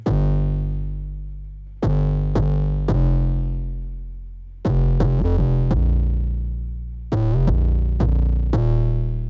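A heavy, slightly distorted 808 synth bass with effects processing plays punchy repeated notes with gliding pitch changes, sustained and gritty, alone without any talking.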